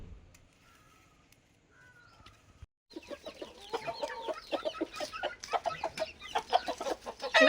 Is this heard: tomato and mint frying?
no